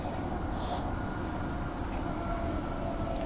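Steady rumbling and clatter of a two-car passenger train running on the Armadale line, heard from inside as a constant close hum with rhythmic wheel noise.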